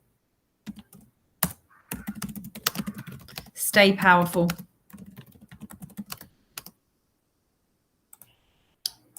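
Computer keyboard typing: scattered, close clicks and key taps come in irregular bursts, partly under a person speaking, with quiet gaps between.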